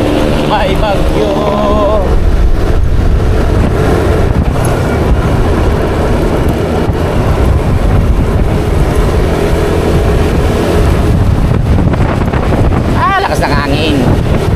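Strong stormy wind buffets the microphone continuously during a morning road trip toward Tagaytay in typhoon weather, a loud, steady roar with gusts, while people talk faintly underneath.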